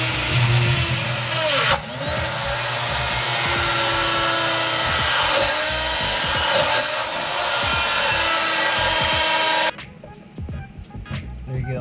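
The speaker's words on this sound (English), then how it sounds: "I'm just gonna grind it wider to fit 2 cables." A power tool grinds a pre-existing hole wider in a van body for wiring, a loud continuous whine and rasp that runs for about ten seconds before cutting off abruptly, leaving quieter clatter.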